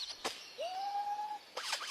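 A forest bird mimicking sounds it has picked up, giving a long, steady, pure whistled tone, preceded by a brief sharp chirp and followed by a quick burst of rapid varied chirps.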